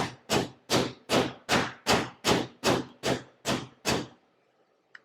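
A meat mallet pounds country-fried steak thin, striking ten even, evenly spaced thuds in a steady rhythm, close and distinct, followed by a brief quiet pause and one faint tap.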